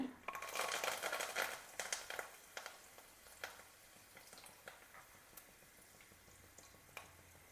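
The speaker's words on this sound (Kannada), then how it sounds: "ಒಗ್ಗರಣೆ ಕರಿಬೇವು ಹಾಕ್ತೀನಿ" Curry leaves dropped into hot oil for tempering, a burst of crackling sizzle at first that settles into fainter scattered pops and spits.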